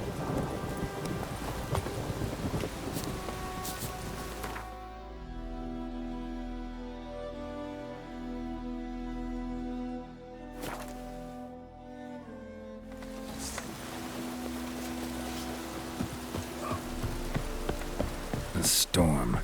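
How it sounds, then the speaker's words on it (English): Steady rain patters across the ground during a thunderstorm in The Witcher 3 on PS5, with low rumbling thunder rolling beneath and a few sharp cracks, continuous and close throughout. "A storm, damn it."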